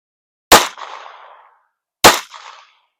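Two sharp gunshots from a Ruger Mark IV pistol, about a second and a half apart, each a crisp crack followed by a short decaying echo, with silence between and no voices.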